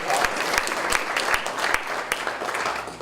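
A lecture audience at Vermont Law School applauding, a short burst of many hands clapping, close and lively, with a few sharper individual claps standing out.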